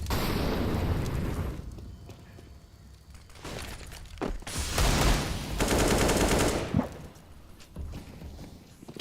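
Rapid rifle gunfire from an esports shooter match, dense bursts of automatic fire and impacts that fill the whole stretch, swelling loud in the middle, with no voices over it.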